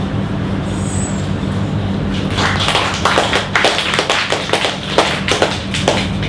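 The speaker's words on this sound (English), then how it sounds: "Keep your applause till the end if you like." An audience at the Perth Poetry Club breaks into applause after a poem, scattered claps starting a couple of seconds in and continuing over a low steady room hum.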